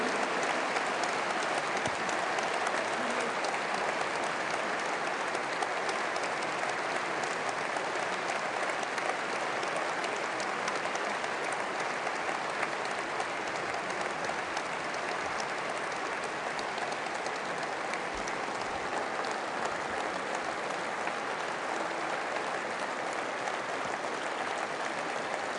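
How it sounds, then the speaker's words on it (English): A hall full of people gives a standing ovation at an Airbus A350 final assembly line inauguration, producing dense, sustained clapping at an even level from start to finish. "I think we owe him a real standing ovation."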